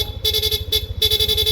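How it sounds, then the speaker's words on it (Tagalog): A PIAA horn on a Yamaha NMAX scooter honks rapidly in quick, loud, bright bursts that cut in and out in a stuttering rhythm. "busina, PIA horn, long press, rapid"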